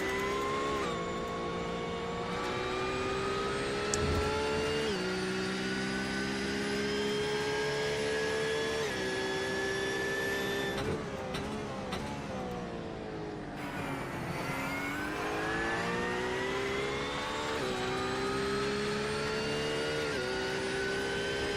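A race car's onboard engine in a sim racing game, a Grand-Am series car (#997) at Motegi, whines steadily with rising and falling pitch through shifts and corners, continuous and close with no talk.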